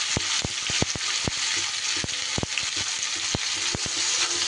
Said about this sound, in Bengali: এইবার এই তেলেই দিয়ে দিচ্ছি কেটে রাখা ঢ্যাঁড়সগুলো।